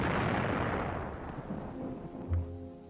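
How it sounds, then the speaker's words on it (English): Heavy artillery bombardment in World War II, a deep booming blast that rolls off into a long rumbling decay, with a fainter thud following near the end. "After a heavy artillery bombardment"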